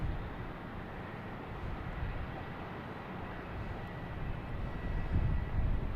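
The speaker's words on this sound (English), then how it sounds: "Here's the American Airlines heading to LAX, flight 1578," American Airlines Airbus A321 airliner at Boston Logan Airport, a steady broad engine roar at moderate distance that swells slightly louder toward the end, with no talking.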